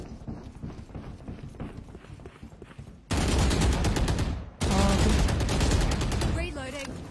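Video-game gunfire erupts in two dense, loud bursts of rapid shots, the first starting about three seconds in and the second after a brief gap, following a quieter stretch of game sounds with a spoken callout.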